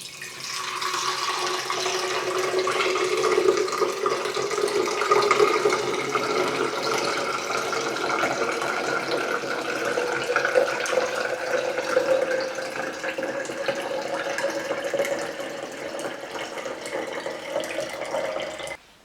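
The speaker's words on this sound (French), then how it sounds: "je vais venir verser et en fait ici le panier cuisson va venir filtrer la préparation" Orangeade made in a Thermomix is poured through the cooking basket, which filters it, giving a steady splashing trickle of liquid that runs unbroken for about nineteen seconds with no talking.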